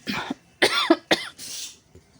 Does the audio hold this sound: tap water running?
no